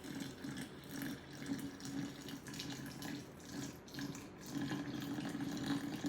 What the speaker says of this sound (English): I'm gonna pour it really super slow because I want this to saturate through.